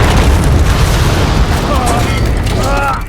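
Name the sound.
missile explosions in the film Transformers: Age of Extinction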